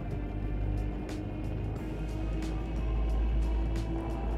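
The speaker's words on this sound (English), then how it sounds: "The engine sound is very loud though in comparison to the weapon sound." A spaceship engine in the video game Star Citizen drones loudly and continuously, with a low rumbling hum and faint periodic clicks layered over it, and no voices.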